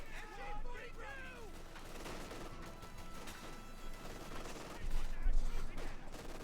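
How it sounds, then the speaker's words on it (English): Company of Heroes 2 battle gunfire crackles in scattered bursts of rifle and machine gun shots at moderate distance, a low rumbling explosion arriving near the end. "Lots of shooting here."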